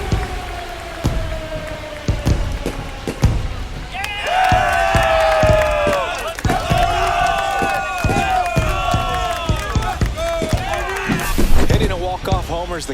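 A home baseball crowd at a Diamondbacks–Mariners game in a video game roars after a walk-off home run, a dense, loud swell of cheering with voices mixed in and sharp bursts throughout.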